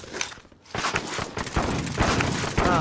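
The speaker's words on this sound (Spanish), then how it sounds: "Carlos, por ahí está el que me disparó." Rapid, loud gunfire in Call of Duty Modern Warfare Warzone, a dense run of close shots and cracks filling the short stretch almost without pause.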